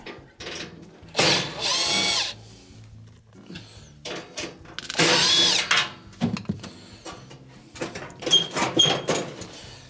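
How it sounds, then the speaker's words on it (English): A cordless power drill whirs in several loud bursts, backing screws out of the top plate of an Amana stove, with clicks and small metal clinks between the runs. "We also have 2 screws here and here that will have to be removed to take off your top"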